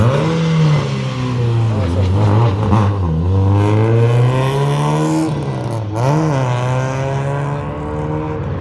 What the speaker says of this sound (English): This Honda sounds really badass.